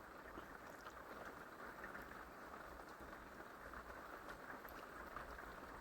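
Rain falls on the metal roof of an RV, a soft, dense, steady patter with no pauses, faint and even throughout.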